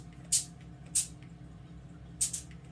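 Cooking spray mists onto foil in three short, sharp hissing bursts, the last one doubled, close by and quiet against a low background hum.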